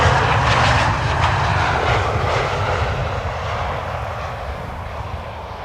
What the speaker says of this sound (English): This is Transavia flight 6116, arriving from Malaga.